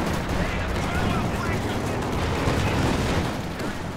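Dense game battle of Company of Heroes 2, a half-track's machine gun rattling amid infantry combat, with steady rapid gunfire and scattered shots forming a continuous loud barrage throughout.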